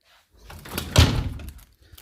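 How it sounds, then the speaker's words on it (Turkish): A door swung shut indoors, building with a brief rustle and landing in a single soft thud, close by and moderately loud. "kapatır mısın kapıyı?"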